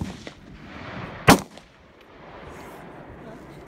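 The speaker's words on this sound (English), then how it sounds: "Now, when you're ready to shoot, just squeeze." A single sharp gunshot from a gun being fired at a shooting session, one loud close crack over steady outdoor background noise.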